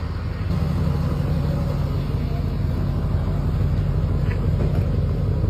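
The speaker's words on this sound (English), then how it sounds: "They are now towing Brian's car" Low engine rumble of a car being towed along a city street, a steady idling drone with faint traffic texture behind it, moderately close and unbroken, no speech over it.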